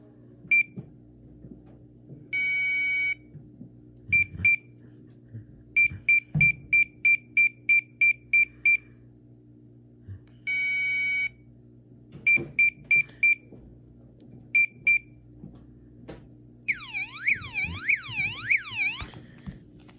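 A PerfectFlite Minitimer 4 model-rocketry timer sounds a series of high electronic beeps: short grouped pulses and a couple of longer tones, with beep counts reporting battery voltage, ending in a warbling sweep tone, under faint background noise.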